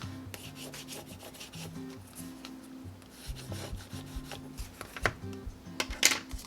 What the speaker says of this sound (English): I'm just going to do a little bit more burnishing just to kind of keep it closed